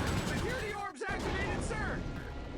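Gunfire rattles through a battle in the game Ratchet: Deadlocked, a continuous barrage of shots with a brief dip near the middle. Character voices and game effects run beneath it.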